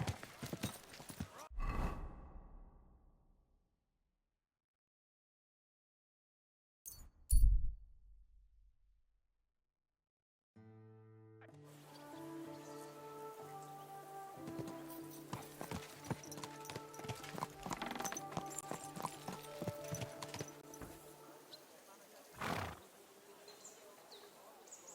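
A horse in the video game Kingdom Come: Deliverance II clip-clops along with steady hoof beats over ambient birds and insects, and a whinny breaks in amid bursts of game sound and a few quieter passages.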